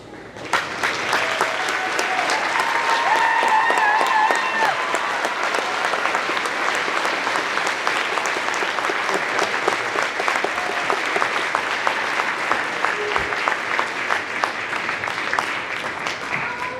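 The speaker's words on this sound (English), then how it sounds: "we would like to honor you with a round of applause" A festival theater audience at a folk festival gala gives host families a long, steady round of applause, dense and sustained throughout with no talking over it.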